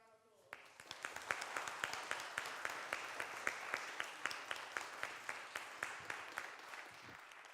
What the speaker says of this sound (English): can everybody give Antony a round of